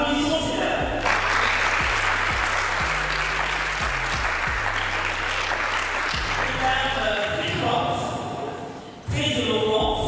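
Audience at a women's eloquence contest in Lubumbashi applauds the all-female jury: sustained, dense clapping over a low rhythmic musical beat, fading slightly before a brief dip and a renewed burst of noise at the end.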